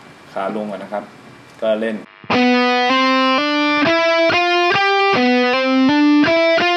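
Electric guitar played with fast speed picking through heavy distortion, a steady rapid stream of loud gritty notes stepping through a phrase, after a brief stretch of someone talking.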